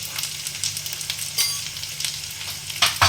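Ground cumin, turmeric, coriander and Kashmiri chilli powder sizzle and fry in a pan for a Bengali chhola dal and soybean dish, a close, crackling hiss with small pops and brief stirring scrapes.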